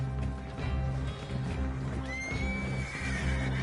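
A horse whinnies in Red Dead Redemption 2 online, its neigh rising over a dense, busy game soundscape with steady background noise.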